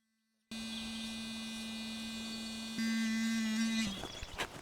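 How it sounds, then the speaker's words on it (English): An electric toothbrush buzzes against tomato flowers to shake pollen loose, a steady close electric hum that grows louder partway through and then breaks into rustling contact noises. "So I'm going to go ahead and buzz them with the toothbrush."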